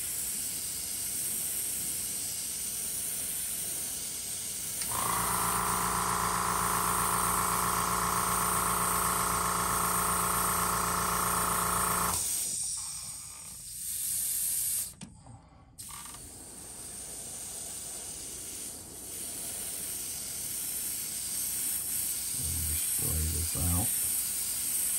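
A paint spray gun lays a pearl coat onto a flat-sided Plopper fishing lure, making a loud, steady hiss for about seven seconds, followed by quieter hissing and brief handling noises.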